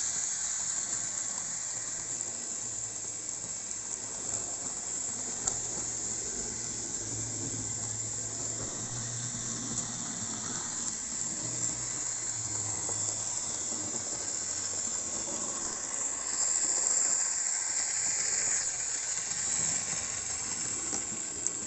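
A model BR64 steam tank locomotive runs at speed with a simulated steam sound. Steady hissing chuffs continue without a break over a low rolling rumble and clicking wheels, close and even throughout.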